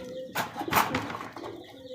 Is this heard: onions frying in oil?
no